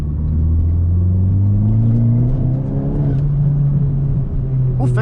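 A 2018 Honda Civic Type R accelerating on the road: a loud, close engine note climbing steadily in pitch through the pull, with a brief voice at the end.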